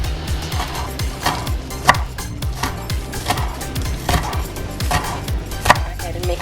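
A knife chops scallions on a cutting board in a home kitchen while pad thai is being made, giving a steady run of sharp near knocks with a few louder strikes.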